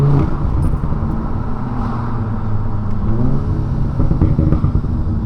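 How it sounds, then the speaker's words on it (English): Car engine fitted with an aftermarket induction kit revving, a rough intake roar rising and falling in steady loud bursts, close and without talk. "I think in the higher rev range you can hear it"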